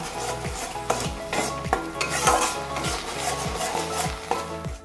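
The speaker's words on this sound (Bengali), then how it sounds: "মশলাটা কিছুক্ষণ, ধরো 2-3 মিনিট একটু ভাজা ভাজা হলে" Beetroot spice paste sizzles and fries in a pan while a spoon repeatedly stirs and scrapes, giving steady rhythmic strokes over a continuous hiss.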